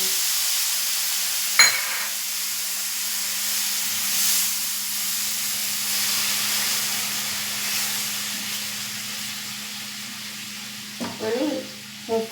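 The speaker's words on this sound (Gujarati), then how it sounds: "હવે આપણે એમાં દૂધ એડ કરીશું અહીંયા મેં એક વાટકી દૂધ એડ" A bowl of milk is poured into roasted vermicelli in a hot pan, giving a sustained steady hiss of steam and sizzle that fades slowly, with a few clinks of utensils at the start and end.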